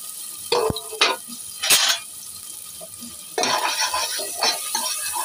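Chopped onions go into hot oil in a pressure cooker in a home kitchen, sizzling steadily while a spoon scrapes and stirs in several clanking bursts, fairly close, no talk.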